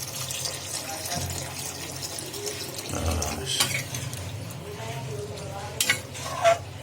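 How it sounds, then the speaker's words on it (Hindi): Water pours into a pot of chole and rajma, hissing and sizzling with stirring and bubbling, utensils knocking against the pot, and a faint voice in the background. "अब मैं डालूंगा इसमें पानी।"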